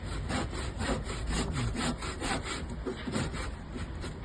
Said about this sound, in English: Cut it with a jigsaw.